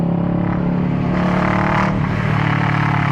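A 2018 Kawasaki Versys 650 twin-cylinder motorcycle fitted with a Two Brothers exhaust runs loud and close, a steady engine drone rising in a brief rev near the middle.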